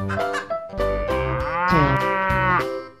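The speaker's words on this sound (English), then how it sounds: "Cow." Cartoon-style cow mooing in a children's animal paint and transformation animation, several drawn-out harmonic moos one after another, loud and clear with no talking.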